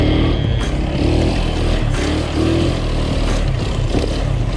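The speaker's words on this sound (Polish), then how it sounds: "Enduro skuterami." Scooters ridden hard over rough off-road enduro terrain, engines droning and revving continuously with rising and falling pitch, loud and close throughout, no talking.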